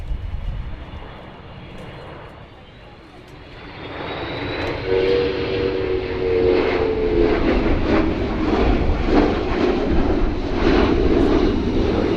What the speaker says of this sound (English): In with the refueling boom extended for its single pass, the KC135R.